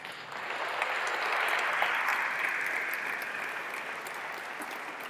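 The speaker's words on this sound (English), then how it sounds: "Let's have a round of applause for them." Applause from a conference audience at AMP Conf 2018, a broad, steady wash of many hands clapping that swells in the first couple of seconds and then slowly tapers off, with no talking over it.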